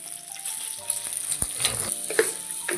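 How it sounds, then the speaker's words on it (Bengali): Small pieces of chopped garlic fry in oil in a wok with a close, steady sizzle and crackle. Brief spatters and stirring clicks break through, and no one speaks. "একটু রসুন ছোটো করে ভেজে নিচ্ছি"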